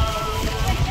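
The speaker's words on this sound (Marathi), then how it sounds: "एवढा वारा आहे आणि पाऊस पण आहे जबरदस्त" Strong wind buffets the microphone while heavy rain falls on a mountain walking trail to the Baba Barfani cave, a dense continuous roar with no gaps.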